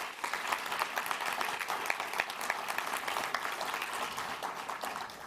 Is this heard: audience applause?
yes